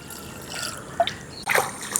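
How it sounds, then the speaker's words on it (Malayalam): Water trickling and splashing as it is filled into a water lily pond, a soft running flow close by with a couple of brief louder splashes. "നല്ല വെള്ളം കുറച്ച് നന്നായിട്ട് ഇതിലേക്ക് ഫില്ല് ചെയ്ത് കൊടുക്കാം"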